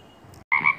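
A frog at a large pond gives a single short, close croak right after a brief faint chirp.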